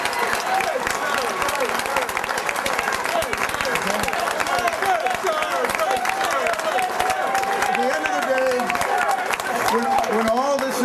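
Audience applause fills the room at an election victory speech, a steady dense clapping crowd sustained throughout with a voice speaking over it.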